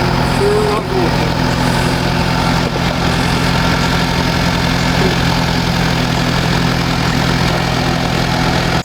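A forklift engine runs steadily while moving heavy concrete deer stand anchors outdoors at dusk, a loud constant rumbling hum throughout with people talking over it.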